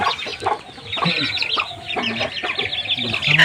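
Native desi hens, a rooster and chicks cluck in busy, overlapping bursts at close range, with steady chatter and rustling of a flock throughout.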